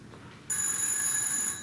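A telephone rings with a bright electronic trill that starts suddenly and holds steady, close and clear over a faint room hush.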